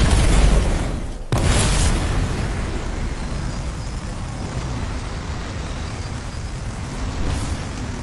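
A game explosion as canisters blow up: a sharp broadband blast about a second in, followed by a sustained loud rumbling roar that stays dense and noisy for the rest of the stretch.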